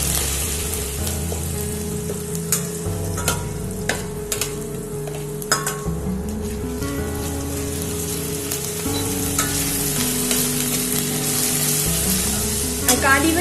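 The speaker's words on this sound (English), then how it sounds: "The garlic should always go in the oil because then it gives out a better flavor" Garlic sizzles steadily in hot oil in a pan for a mango and boiled egg gravy, with occasional stirring scrapes and soft clinks over a continuous frying hiss, while quiet background music plays underneath.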